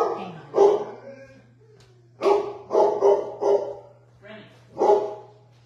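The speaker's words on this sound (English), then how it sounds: "Just figured out why they're barking." Dogs bark repeatedly in short bursts nearby, several sharp woofs in an irregular rhythm over a steady low hum.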